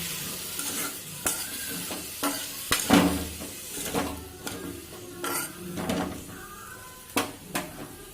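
A spoon stirs potato masala with onions in a pan, scraping and clinking against the metal in irregular strokes over a light sizzle, close and alone with no talk.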